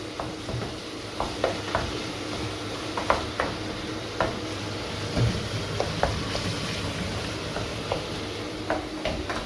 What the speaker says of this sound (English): You have to keep mixing like this to make sure the mince breaks into small little bits